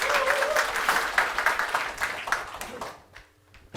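A church congregation at a Sunday worship service applauds, a dense round of clapping that fills the room, then fades into quiet near the end.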